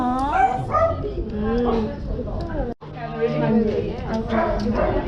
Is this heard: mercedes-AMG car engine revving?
no